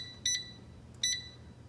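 Two short electronic beeps from an air fryer control panel as its timer is set, spaced under a second apart and fairly clear against a quiet room background.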